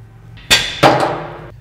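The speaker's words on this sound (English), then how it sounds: "If you give the spindle a little shock with a hammer, it'll drop the ball joint right out." Two sharp metallic clangs as a hammer strikes the spindle of a Jeep Wrangler to drop the ball joint, each blow ringing briefly up close.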